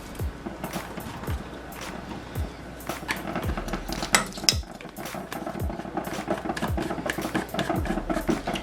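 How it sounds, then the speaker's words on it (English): Small dry coriander seeds spilling into a pot, followed by repeated metallic knocks and scrapes of a spoon against the pot in a loose rhythm, close and fairly loud with no talking. "in our pot, we're going to put in 1 teaspoon of our coriander seeds."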